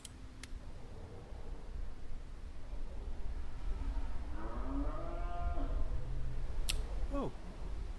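Cattle moo in an open outdoor setting in 1851 America. Several drawn-out moos rise and fall at mid distance over steady wind-like noise, with a sharp click near the end.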